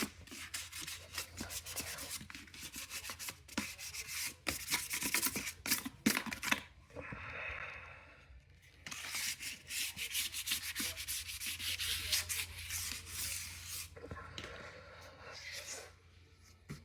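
Steady hand sanding of a car wheel with sandpaper, scratchy back-and-forth rubbing strokes, close and fairly loud, pausing briefly midway before resuming.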